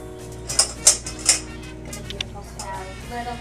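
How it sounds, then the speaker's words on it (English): A knife dices red roasted peppers on a cutting board, giving three sharp chopping knocks in the first second, then lighter scattered taps under a low steady background. "So I'm just going to get them here on the cutting board and dice them finely."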